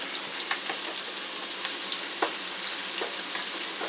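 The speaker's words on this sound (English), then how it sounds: "I'm gonna fry onions" Onions frying in very hot oil on a stove turned up high, a steady close sizzle with scattered crackling pops and spits, heard alone without talk.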